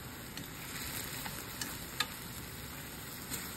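Beef and broccoli stir fry with oyster sauce and sugar sizzles softly in a pan, a faint steady crackle with a few small ticks of the utensil stirring, no talk.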